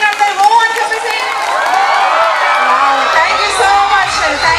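A school annual day audience cheers and shouts a loud, drawn-out 'O' for the performing children. The crowd noise swells and holds for several seconds, close and full, with whoops rising over it.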